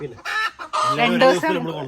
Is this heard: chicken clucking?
yes